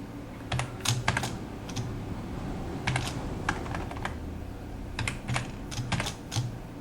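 Someone types HTML code on a computer keyboard in short bursts of quick, close clicking keystrokes, separated by brief pauses over a faint background hum.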